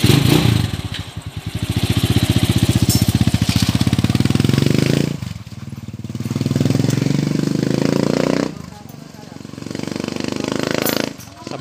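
A Rusi TC125 motorcycle converted to 175cc with a new block and crankshaft runs close by, its engine putting out a rapid pulsing idle that rises and falls through several gentle revs during break-in.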